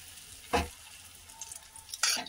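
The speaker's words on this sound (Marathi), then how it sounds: "याला पण आता आपण चांगलं खालतून असं शेकू देऊया आणि मगच पलटून घेऊ।" A bun dosa cooking in a pan, with a soft continuous sizzle broken by two brief louder scrapes or stirs near the start and end, close and without talk.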